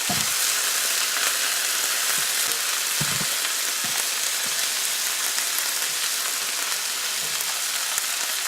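A steak fries in a pan with melting butter, garlic and bay leaf, giving a loud, steady close-up sizzle with occasional pops and spatters throughout.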